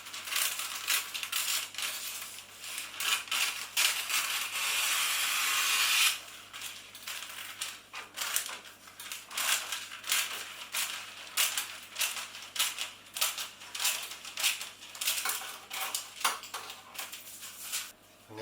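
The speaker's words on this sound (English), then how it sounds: "I'm going to line it with some baking parchment." Baking parchment is pressed into a 30 by 40 cm baking sheet, with steady crinkling and rustling of paper close by, then lighter taps and scrapes against the metal tray, and no talk.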